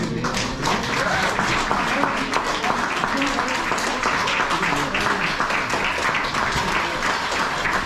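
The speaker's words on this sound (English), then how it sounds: "So big round of applause to all of them" Audience applause for cricket players at an annual club event, steady dense clapping sustained throughout with voices mixed into the crowd noise.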